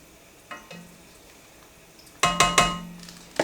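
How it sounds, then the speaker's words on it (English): A spoon knocks and scrapes against a pot of Italian sausage tortellini soup as it is stirred, one clear clank early, then a quick run of three or four loud metallic strokes near the end. "We're turning our temperature up to a medium high, and we're just going to stir."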